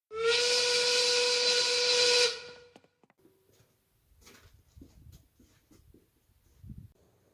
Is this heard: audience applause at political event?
no